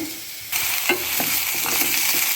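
Vegetable pieces drop into a hot pan for a South Kanara temple-style dish and instantly set off a loud, steady sizzle that continues with light stirring scrapes.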